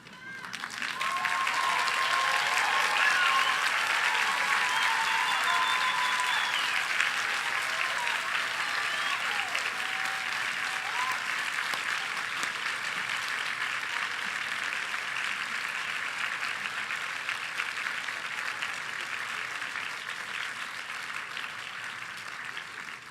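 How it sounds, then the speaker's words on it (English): Sustained applause from a crowd of Reed College graduates at their 2019 commencement as they turn and clap for their families and friends, loud and steady for over twenty seconds, then slowly easing off. "face your families and friends who have supported you, and applaud them for their belief in you and support for you"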